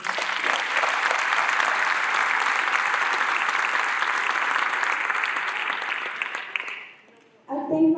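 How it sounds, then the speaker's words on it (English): Sustained, dense applause from a high school graduation audience in a large hall, loud and even for about seven seconds before fading abruptly, with a voice returning at the end. "I ask every one of you guys and every graduate who's here to give an applause to all of them"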